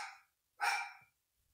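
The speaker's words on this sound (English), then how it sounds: "Ignore the dogs in the background" A dog gives a couple of short barks in the background, one at the start and a louder one just after, then quiet.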